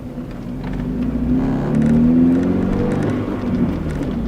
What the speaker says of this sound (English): I'm doing 40 miles an hour right now on a pretty bumpy road